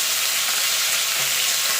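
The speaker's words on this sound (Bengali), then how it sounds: "প্রথমে রসুনটা দিয়ে দেবো পেঁয়াজটা দিয়ে দেবো সবগুলো একসঙ্গে দিয়ে দেবো" Steady, dense sizzling of garlic and onion frying in hot oil, close and continuous with no talking.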